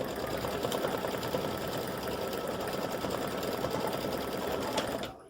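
An embroidery sewing machine stitches leaves with a programmable textured stitch, running at a fast, steady, continuous whir close up, then stopping abruptly near the end.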